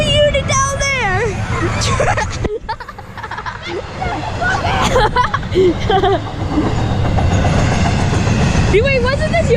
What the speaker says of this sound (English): Our first ever middle engine on video. 3373. Yeah, middle engine. The DPU, there goes the unit down there.